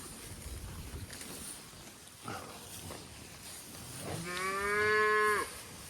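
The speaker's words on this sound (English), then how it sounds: "This is an older cow." An older cow on a cattle farm lets out a single drawn-out, rising moo near the end, over steady outdoor background noise and faint rustling.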